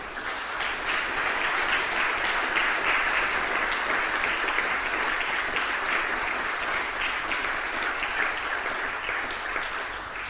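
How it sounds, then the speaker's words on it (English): An audience at an awards ceremony gives a round of applause, a dense, even wash of clapping from a large crowd that holds steady from start to finish with no voices over it. "Ladies and gentlemen, please give them a round of applause"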